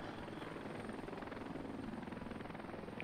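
A video game helicopter in Heliborne flying slowly while carrying cargo, a steady rhythmic rotor thump over a continuous engine drone, evenly loud throughout.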